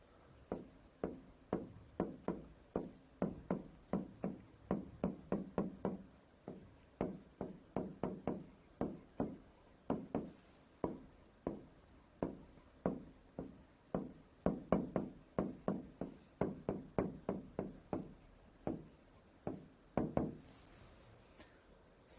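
A teacher writes on a board in a semiconductor physics lecture, chalk or marker striking and scraping in a steady run of close, sharp taps and short strokes with brief pauses, no voices over it.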